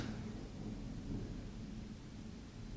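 A thunderstorm rumbles with continuous low thunder and steady rain noise, a dense, even wash of sound with no talking.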